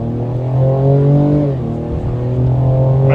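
A 2025 Ford Explorer ST V6 SUV pulls hard from a brake-torque launch to 60 mph, its engine droning loud and steady with a rising, shifting pitch and a brief dip mid-pull, heard close from inside the cabin.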